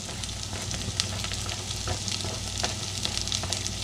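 Garlic and celery sizzle and fry in a pan with canned black-eyed peas, a steady close crackle with faint scraping as the ingredients are stirred in, no voices.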